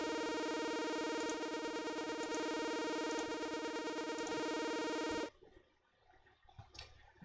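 A buzzy, bright synth tone from an OpenMPT tracker instrument with its pitch envelope applied holds with subtle pitch wobbles for about five seconds, then cuts abruptly to faint, scattered noise.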